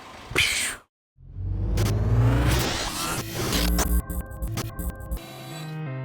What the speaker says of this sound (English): All-wheel drive, 4-cylinder Mercedes-Benz engine.